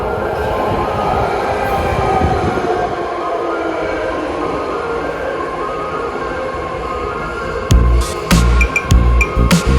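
A BART metro train in San Francisco rumbles loudly and continuously, with rolling wheel noise, then sharp clanks and squeals near the end as it moves through the station.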